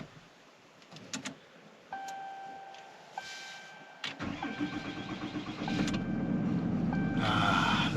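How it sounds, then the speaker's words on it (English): A 2024 Ram 5500 chassis cab diesel truck cranks with a high whine, catches and settles into a steady idle that grows louder and fuller over several seconds, heard close with no talk. "The sweet sound of a diesel."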